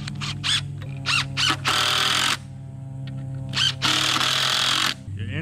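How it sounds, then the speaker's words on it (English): A power drill or driver sinks screws into wooden framing for a chicken tractor, several short whirring bursts and two longer runs close by, with a steady hum underneath. "Alright, so we're gonna start our screws like always."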